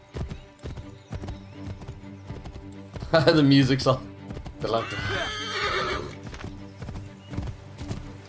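Horse hooves clip-clop at a steady trot in the Assassin's Creed 3 video game, broken by two loud, drawn-out neighs, with someone talking briefly over the sounds.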